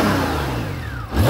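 A Honda GL1800 Goldwing ABS motorcycle engine is given a short blip of throttle, rising loudly from idle and settling back, close by with no talk over it.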